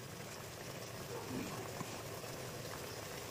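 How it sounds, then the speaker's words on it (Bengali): Rice in water in a pot, boiling and bubbling at a gentle, steady simmer, quiet and continuous, with no talk over it. "ভাতটা আমার একটু ফুট ধরেছে"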